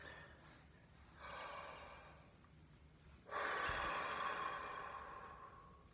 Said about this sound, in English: So that's breathing out.